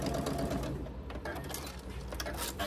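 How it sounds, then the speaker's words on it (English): A sewing machine stitches a quarter-inch seam joining quilt squares, a close, steady mechanical whirring and clatter that runs continuously with a slight pause partway through, no voices over it. "I'm going to sew a 1/4 inch seam down the side of those two"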